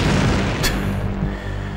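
A C4 charge detonating in a 2000-era PlayStation 1 game gives a loud, low boom with a brief sharp crack, then a rumbling tail under steady game noise.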